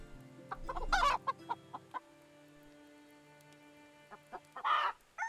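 Chickens clucking inside a stable in the game Medieval Dynasty, a few loud, close bursts of clucks and squawks over a low steady hum, with quieter scattered calls between them.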